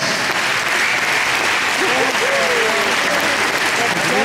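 Sustained crowd applause for a dressage rider at an event in the Netherlands, a dense steady wash of clapping throughout with voices and faint whistles rising through it.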